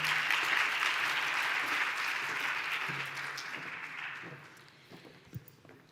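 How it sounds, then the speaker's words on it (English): An audience at an awards ceremony gives sustained applause, a broad even wash of clapping that gradually fades and thins out near the end. "Give her a big round of applause"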